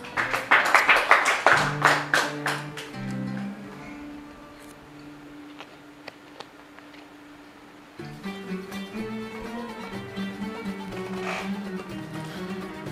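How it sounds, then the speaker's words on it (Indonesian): Applause for students at an evening khat naskhi calligraphy session, a burst of clapping at the start that fades into quieter tapping, with music carrying on underneath. "Tepuk tangan buat para santri."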